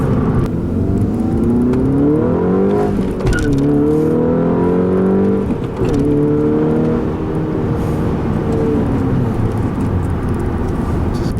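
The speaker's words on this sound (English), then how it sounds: "third gear, 4 grand. Loves to rev." A 2011 Volkswagen Golf MKVI GTI engine revs hard in third gear toward about 4,000 rpm, a loud, sustained rising drone with a brief dip in pitch partway through, heard alone without talk.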